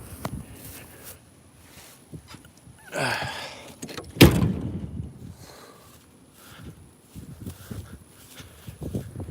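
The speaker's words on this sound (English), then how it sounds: "I got to close that door or they'll get out" A chicken coop door swings and shuts with one sharp bang partway through, amid soft outdoor rustling and scattered small knocks.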